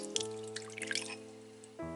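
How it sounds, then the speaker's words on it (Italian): Warm water with dissolved yeast trickling and dripping into a stand mixer bowl, a quiet patter of small drips over a faint steady hum, close and soft. "Sciogliamo il lievito in poca acqua tiepida e lo versiamo nella planetaria."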